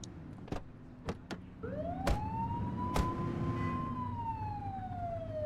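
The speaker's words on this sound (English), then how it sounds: "You're only meant to use the siren in emergencies." A police car siren in The Precinct video game winds up from low to a long sustained high wail, preceded by a few sharp clicks and knocks over a quiet engine hum, with no voices.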